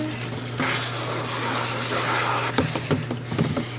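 Water runs steadily from a tap to rinse out a rabbit litter box, with a continuous splashing wash and a few louder knocks and sloshes near the end as the box is handled.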